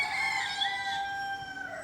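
Farmyard chickens, with a rooster crowing in drawn-out tones, sound faintly in the background with no voices over them.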